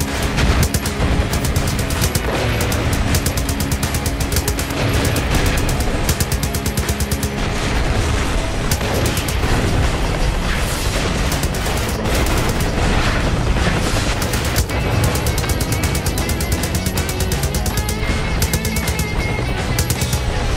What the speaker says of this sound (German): Du kannst auch auf die Blindgänger schießen. Dann explodiert die ganze Scheiße.